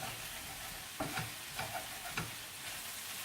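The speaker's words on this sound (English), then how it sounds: "Now I need to turn the pan right down because the spinach has started to stick." Spinach frying in a pan, a soft steady sizzle with several light scrapes and stirring taps of a utensil against the pan.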